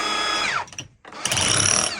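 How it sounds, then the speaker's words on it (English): A Makita 36V cordless SDS max rotary hammer, run on two 18V LXT batteries in drilling mode, whirs loudly, briefly cuts out for a moment, then starts up again with a high, strained whine. "It will just do drilling like"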